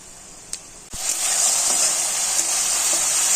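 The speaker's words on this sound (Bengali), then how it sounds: "ভালোভাবে কষানো হচ্ছে" Butter paneer masala with homemade garam masala sautés in a pan: a couple of clicks, then a loud sizzle bursts up and holds as a steady close frying hiss.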